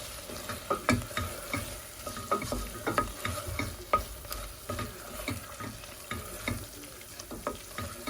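Chicken pieces stirred and tossed with olives, parsley and Moroccan spices, a steady run of soft wet squelches and utensil scrapes at close range, with faint background hiss and no talking.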